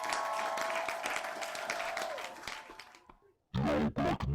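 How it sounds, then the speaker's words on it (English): A round of applause from a crowd during a live stream, loud and dense at first, then fading away to near silence before a person starts talking. "Round of applause to me."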